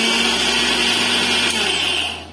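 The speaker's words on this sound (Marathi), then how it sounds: "आपण एकदाच मिक्सर थोडासा फिरवायचा आहे" A kitchen mixer grinder whirs loudly and steadily as it briefly grinds fresh grated coconut, a continuous motor whine close by that cuts off near the end.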